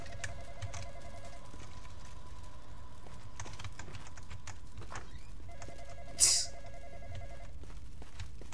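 Telephone ringing inside the Roblox game Midnight Hours, heard as two bursts of repeated electronic trilling, one early and one later, over a steady background hum with a brief sharp noise between them.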